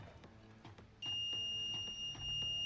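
A multimeter continuity test on an LED strip connector, a sustained high electronic beep starting after a second of quiet clicking and lasting to the end.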